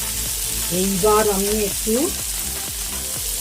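Onion and tomato fry in a pan with a constant sizzle and repeated stirring scrapes, while a person speaks briefly over the cooking.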